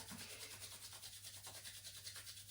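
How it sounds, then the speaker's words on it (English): Palms rubbing briskly together to warm them, a soft, close, rhythmic swishing friction repeated steadily, faint and alone without talk. "give them a bit of a rub, create some heat"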